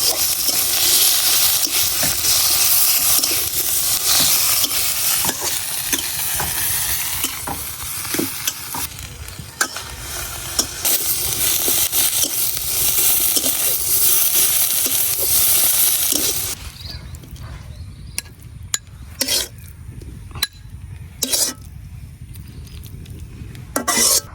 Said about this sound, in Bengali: এই পেঁয়াজ আর সরিষার তেলটার মধ্যে একটু ভালো করে নাড়াচাড়া করে নিলে